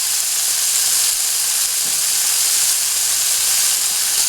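Pork and vegetable omelet filling browning in a hot pan, a loud, dense, unbroken sizzle close up with a faint stir or scrape near the middle, no voices.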